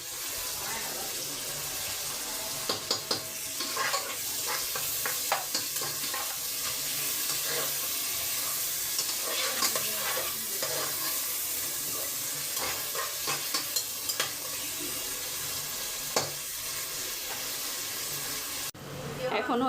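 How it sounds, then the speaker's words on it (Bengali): Chopped onions sizzling in leftover fish-frying oil in a home kitchen, a steady broadband hiss with scattered crackles and occasional stirring clatter, close and fairly loud throughout, with faint voices now and then. "মাছের তেলের মধ্যে পেঁয়াজ ছেড়ে দিলাম"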